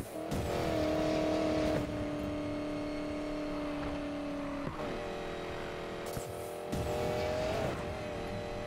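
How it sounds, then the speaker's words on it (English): A race car in Need for Speed Payback roars with a steady, sustained engine note that holds and drops through gear changes, with brief tire squeals and scrapes in between. "I love this car. I love the sound of this car"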